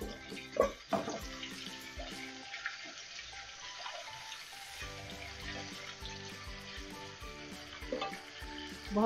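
Onions frying in a pan with roasting pickle-style (achari) spices for an aloo baingan dish, a soft, continuous sizzle under a low electrical hum, with a few utensil knocks near the start and end.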